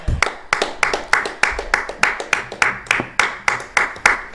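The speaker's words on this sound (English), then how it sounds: "Friendly applause." Rhythmic, evenly spaced hand claps, about three per second, loud and close, like a small group or single person clapping in a steady beat rather than a broad crowd ovation.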